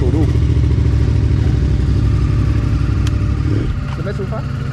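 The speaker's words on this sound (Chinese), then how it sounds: "就跨上摩托车准备出发了" A motorcycle engine runs loud and close as riders set off on a long dirt-road ride through Baviaanskloof, South Africa, a steady throbbing drone that eases slightly at the end, with some talk over it.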